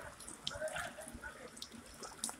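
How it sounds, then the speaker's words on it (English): Warm spring water trickling out of rocks at Bath Fountain in St Thomas, Jamaica, a soft, close, uneven splashing and gurgling, faint and without voices. "I see the water running out the rocks up here"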